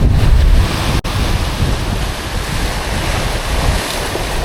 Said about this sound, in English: The wind right now is pretty adverse.